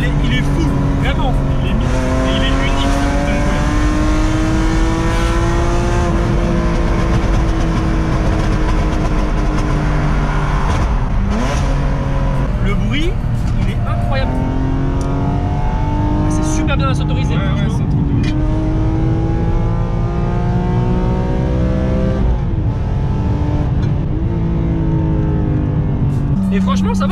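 A 360-horsepower BMW M3 E46 roars loudly from inside the cabin, its engine revving and climbing through rising and falling pitch sweeps as it accelerates and shifts. Voices talk over the engine.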